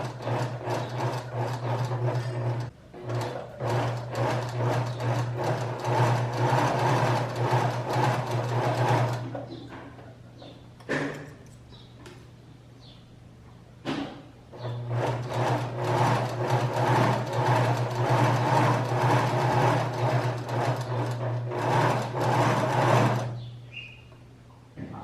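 Sewing machine stitching straight across a blouse cuff, a steady close mechanical whir running in two long bursts separated by a quieter pause with a few handling clicks.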